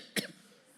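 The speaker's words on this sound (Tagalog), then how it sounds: "pag inubo yung babae" A single short, sharp cough from a preacher, close up and alone, followed by quiet room tone.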